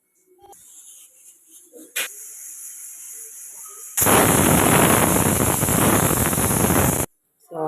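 A pressure cooker on a home stove, cooking green chicken biryani, lets loose one loud, sustained hissing steam whistle lasting about three seconds, preceded by quieter kitchen sounds and a brief sharp burst.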